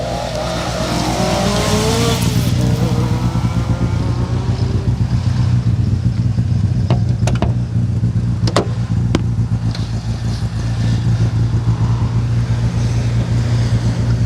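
A Skoda rally car on a Czech crew's run through a rally stage, its engine roaring steadily and loudly throughout, with a few sharp transient cracks midway as it passes.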